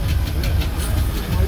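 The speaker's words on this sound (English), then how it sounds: "as the Avion clears its way, you can see a Fowler steam roller there" A Fowler steam roller moving at a steam rally, giving a steady low rumbling engine churn with rhythmic chuffing pulses, fairly loud and continuous with faint talk underneath.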